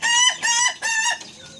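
An ayam ketawa, the Indonesian laughing chicken breed, crows in a close, loud series of rapid cackling bursts, three main pulses followed by a softer trailing call.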